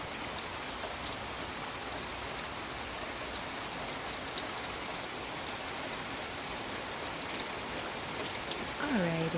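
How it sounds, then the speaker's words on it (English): Steady Saturday rain falls on an outdoor garden where hummingbirds visit, an even, soft hiss of drops that carries on unbroken, with a brief chirp near the end. "So thankful for the rain."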